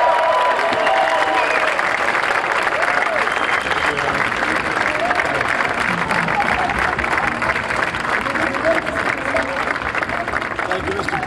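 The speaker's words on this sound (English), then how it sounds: "Give the New York Giants a big round of applause." A crowd at a White House welcome for the Super Bowl champion New York Giants breaks into sustained applause and cheering, dense clapping filling the room throughout.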